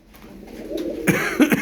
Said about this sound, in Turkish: Dediğim gibi burada da güzel kuşlar var.